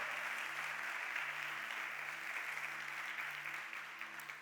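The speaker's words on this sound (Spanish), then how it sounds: "Denle un aplauso al Señor" A church congregation applauding during a sermon, sustained dense clapping heard at low level over a steady low hum, thinning slightly toward the end.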